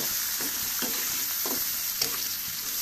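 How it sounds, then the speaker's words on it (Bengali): Potatoes frying in plenty of oil with radish greens, giving a constant close hiss and sizzle with a few soft stirring scrapes, no voices. "আলুটা কিন্তু অনেকটাই ভাজা হয়ে গেছে।"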